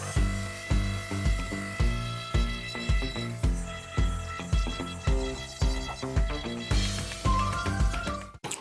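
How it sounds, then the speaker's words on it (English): An old bureau's thick wood veneer being sanded with a power sander, loud and close, rising and falling in a regular rhythm of about two passes a second, then cutting off abruptly at the end. "so I think I'll just sand it"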